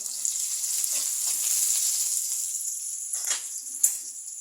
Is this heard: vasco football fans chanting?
no